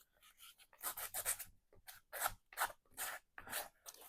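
Scissors or a file work along the edge of a half-size altered composition notebook, giving a series of quiet rasping strokes in uneven bursts separated by brief pauses.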